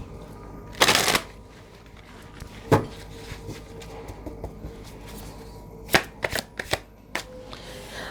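Tarot cards being shuffled in a quick riffle, then laid out one by one on a table with a few soft, distinct slaps and taps. The sounds are close and quiet, and no one speaks.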